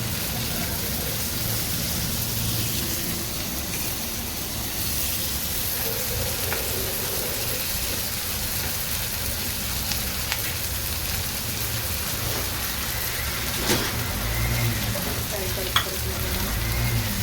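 Prawns frying in a pan over a low flame, with a loud, dense, continuous sizzle and spitting crackle throughout and a few faint clinks.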